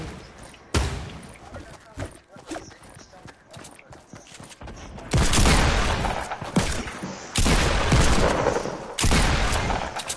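Desert Eagle shots in a Fortnite squad match, several loud sharp bursts separated by quieter gaps, with people talking in between.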